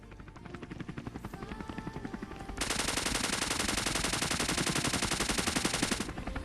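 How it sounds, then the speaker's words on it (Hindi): A helicopter's rapid rotor thump in the video game ScarFall 2.0 beats loudly and steadily, joined midway by a dense burst of sustained gunfire that cuts off near the end. "तभी मेरे को साउंड आता है एक हेलीकॉप्टर का"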